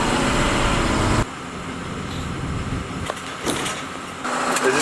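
A school bus engine spools up while driving, a loud broadband rumble with a faint whine that drops away abruptly, then returns after a quieter stretch with a few knocks.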